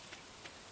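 Brief stretch of gentle rain from the farming game Stardew Valley, a faint uniform hiss of falling drops with no talk.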